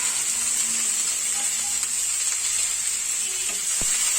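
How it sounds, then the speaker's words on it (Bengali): Chopped ginger and garlic sizzle steadily in a hot pan for egg potato pasta, a continuous bright hiss with a few soft clicks and scrapes, close and even throughout. "এরপর আমি আদা রসুন কুচিটাও দিয়ে দেবো"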